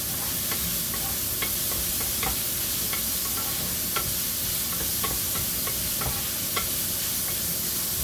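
Tomatoes browning in a pan for patsamba, a tomato dish with chopped prawns, give a steady close sizzle. Scattered light clicks from stirring run through all eight seconds, and no one speaks.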